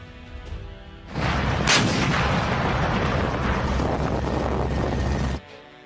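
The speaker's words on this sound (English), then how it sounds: "this weapon can attack by shooting 20 bullets in 2 minutes" A PzH 2000 155mm self-propelled howitzer fires shells, producing a loud, sustained blast and roar that lasts about four seconds before dropping back to quieter background.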